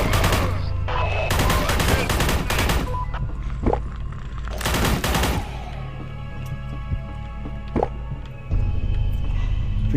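Machine gun fire in the Forgive Me Father video game: loud, rapid automatic bursts with sharp reports, broken by short pauses and trailing reverberant booms.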